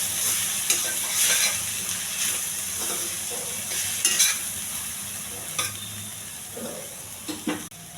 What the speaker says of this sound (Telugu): ఈ మసాలా అంతా పట్టేంత వరకు కలపాలండి.